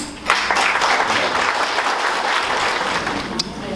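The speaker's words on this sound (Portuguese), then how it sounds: "uma salva de palmas" An audience at an anniversary gathering of an anti-alcoholism association in Naviraí gives a steady, full round of applause to welcome a guest speaker, continuous and close with no pauses.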